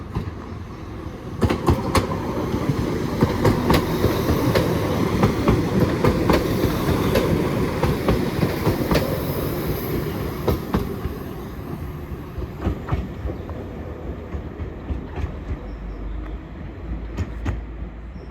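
A Class 197 train passes through Earlestown station, a steady rumbling roar with clattering wheel rhythm that swells and holds for most of the stretch, then eases off while rail clicks continue near the end.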